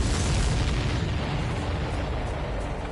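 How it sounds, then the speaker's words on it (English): A loud, broad explosion in the Ace Combat 7 flight combat game rumbles and booms continuously, decaying slowly over several seconds with no speech. "Did you see that explosion?"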